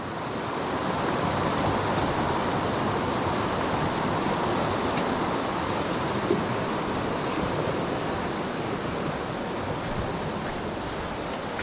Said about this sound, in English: Trying to hold him back so I can do a bit of recording of the river.